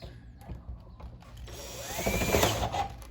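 A power driver running screws into a sagging steel garage door during a repair, with a soft start, then a rising, loud, whirring whine held for about a second and a half as the screw is driven home.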